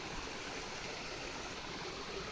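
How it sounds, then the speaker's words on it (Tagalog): Stream with plenty of flowing water in a rural village, a steady, close, continuous rush of water with no breaks. "Marami ng tubig sapa."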